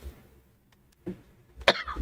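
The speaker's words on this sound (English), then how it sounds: "Don't I keep coughing?" A single sharp cough rings out close by, preceded by a softer throaty sound, in an otherwise quiet room.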